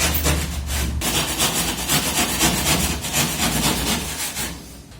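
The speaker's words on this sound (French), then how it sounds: "Ensuite, on fait 4 trous à la scie cloche." A hole saw bores holes for electrical boxes in plasterboard while a kitchen is being prepared, giving a loud, close, continuous rasping and grinding cut that runs steadily for several seconds with no talking.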